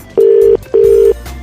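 A telephone disconnect tone after a call drops: two steady, loud electronic beeps of equal length separated by a brief gap, sounding alone.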